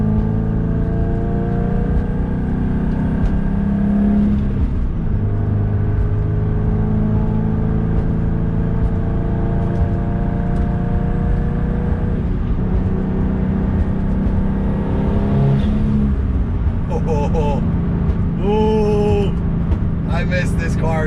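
A tuned 500HP Subaru STI engine drones steadily while driving, a low harmonic hum with shifting pitch and brief rev changes, running continuously under occasional talk in the cabin.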